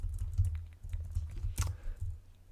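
Keys tap on a computer keyboard while Java code is deleted, a quiet, irregular run of soft clicks close by, with one sharper keystroke midway and a low steady hum beneath.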